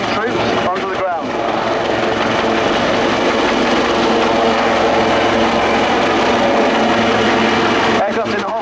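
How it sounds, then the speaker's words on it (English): A Royal Navy Wildcat helicopter of 845 Naval Air Squadron hovers at Yeovilton Air Day: a loud, steady rotor and turbine roar fills the whole stretch close by, with a commentator's voice over the PA. "Aircraft in the hover now, flown by Lieutenant Commander Marty Van Doo"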